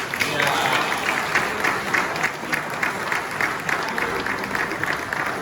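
Audience clapping after a Ghanaian chief's speech on alternative dispute resolution, a continuous crowd-wide patter with slight swells, moderately loud and sustained throughout.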